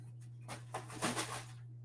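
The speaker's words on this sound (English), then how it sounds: "Bird, I got your favorite food right there" A pet pigeon or dove cooing softly in a few low, breathy pulses, faint against a steady electrical hum indoors.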